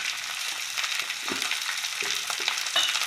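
Chopped green beans fry with salt and turmeric in a pan, a steady hiss broken by scraping and clattering as they are stirred close by.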